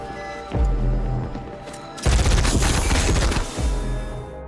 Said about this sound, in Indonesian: setelah terjadi aksi saling tembak